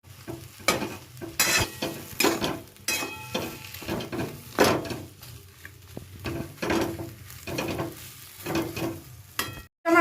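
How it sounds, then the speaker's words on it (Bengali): A spatula scrapes and mashes spiced potato filling in a hot pan, a series of irregular, loud scraping strokes over a steady frying sizzle, close by and without talk. "একটু ভালো করে খুন্তি দিয়ে একটু গেলে গেলে দিচ্ছি ভালো করে"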